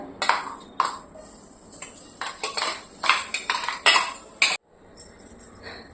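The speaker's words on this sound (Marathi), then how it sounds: "हे खोबरं छान असं आपण परतून घेऊ जरा" Grated coconut is stir-roasted in ghee in a pan over medium flame, heard as a run of uneven metallic scrapes, clinks and rattles from a spoon against the pan, loud and close, followed by a brief pause; no one talks.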